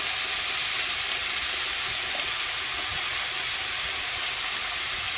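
Prawn curry ingredients with banana flower, salt and turmeric frying in a pan, giving a steady, even sizzle that holds loud and unbroken throughout with no talking.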